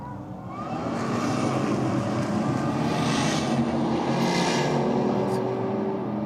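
A Holden VF Commodore with an LSA engine and a turbocharged Holden VZ Commodore drag race side by side, their engines giving a loud, steady roar heard at a distance that swells in the first second and then holds without voices.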